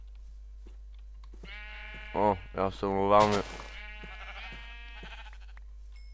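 Sheep in a video game bleat in a few loud, wavering cries over a short stretch, with people talking throughout.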